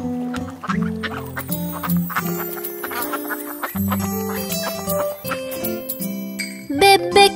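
Cartoon ducks quack along with a bouncy children's animated nursery song. Repeated quacks sit over music and a light jingle, loud and up front, ending in a brighter burst.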